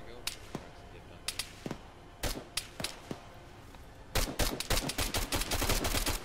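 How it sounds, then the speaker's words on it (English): Gunfire in the Arma 3 video game: scattered single shots and short bursts early on, then a dense run of rapid automatic fire, loud and sharp, with voices in the background. "Me and Falx are getting shot at now"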